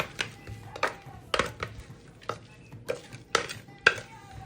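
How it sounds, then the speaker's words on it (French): Blended vegetables are tipped into a salad bowl, heard as a series of close kitchen knocks and clatters of a container against the bowl at irregular intervals, with no talk. "Après avoir mixé les légumes, je vais les renverser dans un saladier."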